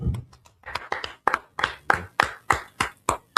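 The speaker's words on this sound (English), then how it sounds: "Let's clap it up." A group claps together in a steady, rhythmic beat during a history class gathering, with about a dozen sharp, close claps that grow more even and pronounced as it goes on.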